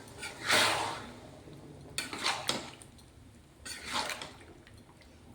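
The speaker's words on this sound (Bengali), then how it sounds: "এই যে জল গরম করেছি, এটা অল্প গ্রেভিটার জন্য আমি দেবো" Hot water poured into a pan of potato, paneer and pea curry to make a gravy, with a couple of short splashing pours and soft clinks of a pan and utensil, fairly faint and close.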